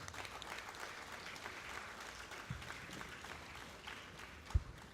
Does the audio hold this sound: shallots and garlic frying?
no